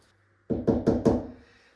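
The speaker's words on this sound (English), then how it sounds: "we're going to pop them in" Four sharp knocks in quick succession as plastic wall plugs are tapped into holes drilled in wall tile, close and crisp, each hit ringing briefly before fading.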